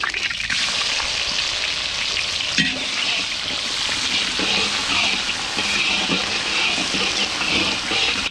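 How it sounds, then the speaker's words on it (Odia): Chopped onions go into hot oil in a pan while egg chop is cooked, giving a loud, steady, close sizzle that runs throughout, with faint stirring underneath. "ଏବେ କଟା ପିଆଜ ପକେଇ ଦେବା"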